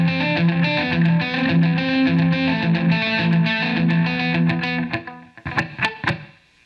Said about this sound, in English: Key 8 turns on the tape echo delay.